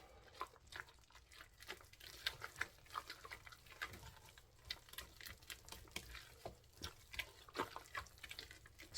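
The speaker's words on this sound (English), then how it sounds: "Stir that up." Pasta with Parmesan cheese is stirred in a slow cooker, a steady series of soft, wet scraping and squelching strokes that sound faint and close, with no talking.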